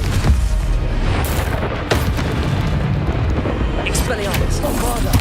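The Confringo blasting spell goes off during Hogwarts Legacy combat, loud booming blasts and crackling impacts layered among other spell effects, with a game voice sounding briefly through the din.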